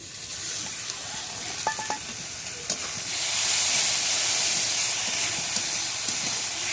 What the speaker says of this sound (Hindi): ए अदा रसुण लंका पेस्ट कर पकेदवा।